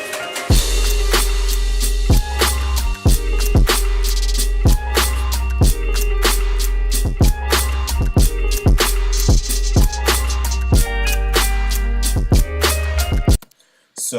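Electronic track produced in Ableton with a programmed drum rack, playing loud and steady with punchy kicks, snappy percussive hits and sustained synth tones, cutting to a brief silence near the end.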